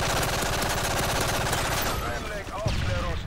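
Rapid automatic gunfire in Modern Warfare 3, a dense rattling burst of shots close and loud, breaking off near the end into other game effects, with a voice talking over it.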